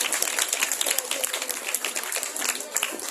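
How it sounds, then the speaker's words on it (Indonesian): Audience applause at a school event at SMAN 1 Simpang Teritip, a hissy, fairly distant patter of many hands clapping steadily for about three seconds. "Dan tepuk tangan sekali lagi."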